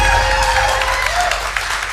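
A studio audience applauds before a trivia competition match, a dense wash of clapping filling the whole short stretch at steady loudness, with a faint tone running underneath.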